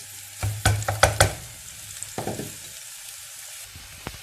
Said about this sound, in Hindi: इसमें अपनी सब्जियाँ डालकर इनको भूनेंगे